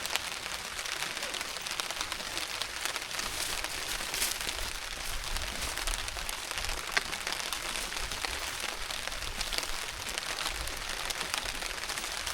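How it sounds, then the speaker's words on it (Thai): Steady rain falls on a hut behind a mountain, a dense, even hiss of drops close by, with faint crackling taps and no talking. "ฝนนี่มันตกมาเรื่อยๆเด้อทุกคน"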